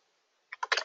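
After a quiet pause, a few quick keystrokes clatter on a computer keyboard, close and crisp, ending in a short burst of clicks.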